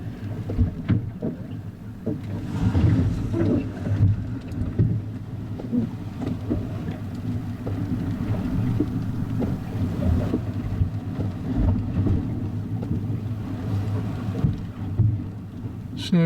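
The sailboat Mingming II sailing at sea in a lively breeze, with a steady rushing roar of wind and water, occasional splashes and thumps, loud and continuous.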